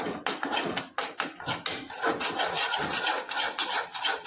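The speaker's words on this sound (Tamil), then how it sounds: "இப்போ இது எல்லாத்தையும் நல்லா வந்து மிக்ஸ் பண்ணி விட்டுருவோம்" Turmeric, garam masala and other spices stirred into a black chickpea gravy, a spoon scraping and rubbing against the pan in quick, close, repeated strokes with occasional light clinks.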